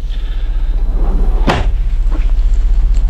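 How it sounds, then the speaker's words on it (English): A cabinet door in a 2018 Newmar Dutch Star 4002 motorhome shuts with a single sharp knock midway, followed by a couple of fainter clicks over a steady low hum. "let me close up some cabinets here"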